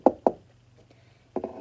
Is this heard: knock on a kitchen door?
yes